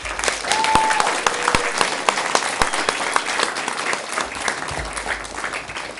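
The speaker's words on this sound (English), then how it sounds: "So let us give them a round of applause." Applause rises from an audience at a scholarship awards ceremony honoring sponsors, steady dense clapping throughout with a couple of sharp louder claps near the front.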